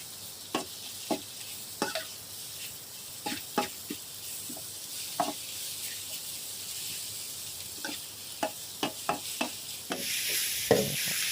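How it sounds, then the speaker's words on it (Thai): Cabbage being stir-fried in a pan for a Thai glass-noodle and egg dish: a steady sizzle runs throughout, with repeated sharp clanks and scrapes of the spatula against the pan, no talk. "ผัดให้กระลำปีเขาสลดเด้อพี่น้องเด้อนี่ครับ"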